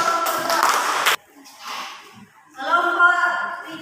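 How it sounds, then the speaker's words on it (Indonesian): Students in a classroom give a short burst of clapping for a presenting group, a quick patter of many hands that stops abruptly after about a second, followed by people talking. "Tepuk tangan untuk kelompok 2."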